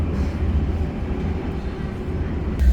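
A Munich U-Bahn subway train on the U1/U2 line rumbles steadily with a deep low drone and wheel noise, heard from inside or close by, with a brief louder clunk near the end.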